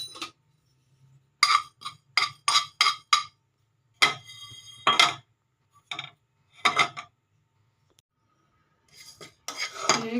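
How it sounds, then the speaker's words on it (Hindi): A metal spoon clinks in quick bursts against a pan as cumin seeds are dry roasted for namak pare, with several short tapping runs separated by quiet pauses. "अब मैं ड्राई रोस्ट करती हूँ ज़ीरे को।"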